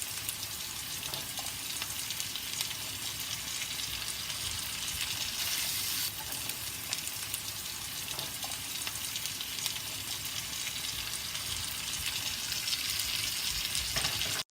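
Mixed vegetables of corn, carrots, green beans and seedless green peppers sizzle and fry steadily in a pan on the stove, a continuous close crackling hiss with no talk.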